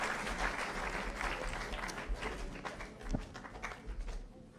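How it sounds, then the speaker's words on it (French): Audience applause for the horse riders at a champions' awards evening, a dense, steady wash of clapping lasting throughout with a few sharper claps standing out, fairly close and without talk. "On va vous applaudir. Encore une fois, applaudissez-les."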